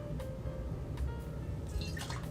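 Fresh-squeezed blood orange juice drips and trickles into a cocktail glass, a faint, close, thin pour with a few soft splashes near the end.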